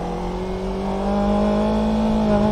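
A motorcycle engine hums steadily at low throttle while a rider eases off the clutch and pulls away, its tone rising slightly and growing a little louder toward the end.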